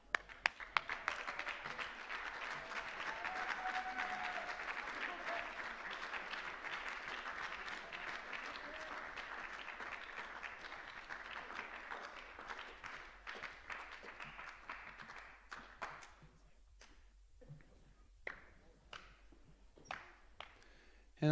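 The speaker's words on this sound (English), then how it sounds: "give your parents a big round of applause" Football players at an awards night applauding their parents, a sustained round of clapping from a room of people that swells early, then thins into scattered individual claps before fading out.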